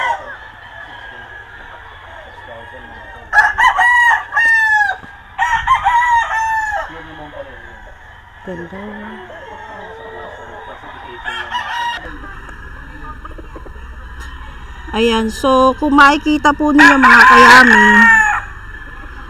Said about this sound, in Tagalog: Iko-close up po natin yung mga manok na ready for shipment dito po sa Firebird Game Farm ni Sir B-Boy Enriquez